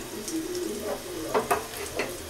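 Cumin seeds roast and fry in a pan on the gas, a soft continuous sizzle with a few light stirring scrapes and clicks near the end.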